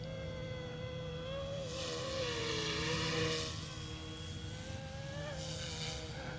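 A Wolfbush AW-911 Airwolf RC helicopter flies fast overhead, its steady high motor whine drifting in pitch and swelling briefly as it passes, heard from a distance with wind noise.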